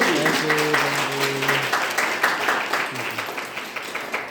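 Audience at a DXN programme in Banke, Nepal claps for the team leaders, a steady wash of applause with a few louder individual claps, a voice briefly heard over the start.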